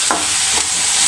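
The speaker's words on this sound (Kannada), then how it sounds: "ಟೊಮೊಟೊವನ್ನು ಚೆನ್ನಾಗಿ ತಿರುಗಿಸಿ." Tomatoes stirred in a hot pan while cooking capsicum kadle hittina junka, a steady close sizzle with two soft scraping strokes of the spoon.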